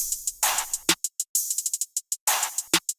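Chant sample on every second beat in an FL Studio beat, short breathy vocal hits alternating with crisp hi-hat ticks in a quick, steady rhythm.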